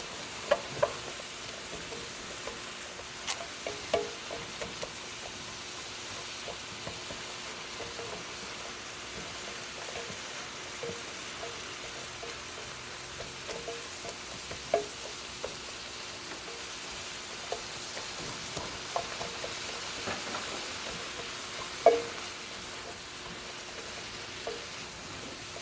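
Onions fry in a pan with a soft, steady sizzle, broken by occasional light clicks and taps of stirring, quiet and continuous with no talking.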